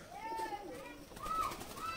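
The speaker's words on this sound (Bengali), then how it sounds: "এটা একটা জটচা পায়রা আছে" A jotcha pigeon kept among a loft of pigeons coos softly, a couple of low rolling calls close by, faint against background voices.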